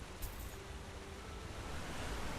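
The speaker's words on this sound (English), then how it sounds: "Ah, the waterfall of the Well Watch." The waterfall at the Well Watch in Enderal, a Skyrim mod, rushes as a steady, soft wash of water noise with no voices.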